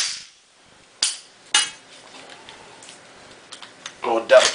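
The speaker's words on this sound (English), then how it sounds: "This is the bolt release, and it's lock position, so she's going to go." A Colt AR-15 M4 bolt release and action being worked: several sharp metallic clacks and snaps, close and crisp, separated by short pauses, with a cluster of rattling clicks at the end.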